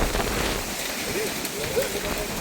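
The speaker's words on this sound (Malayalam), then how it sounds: "കാറ്റിലും മഴയിലും ഇങ്ങനെ നിൽക്കുകയാണ്" Dense rain hisses steadily with a wind-like rush during a night thunderstorm at a campsite, and a voice is faintly heard underneath.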